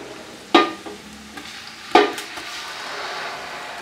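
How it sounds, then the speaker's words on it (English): Blended tomato, pepper, onion, ginger and garlic mixture poured into a pan of fried onion: two sharp splashing hits, then a steady hissing sizzle that builds and holds, close and fairly loud with no talking. "So I'm going to pour in my blended tomatoes."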